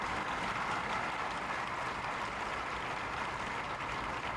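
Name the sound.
audience applause, standing ovation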